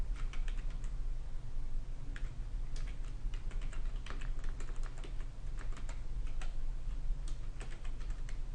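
Fingers type steadily on a computer keyboard, entering admin login credentials during a VPN connection setup; the clicks are close, quick and irregular over a constant low hum, with no speech.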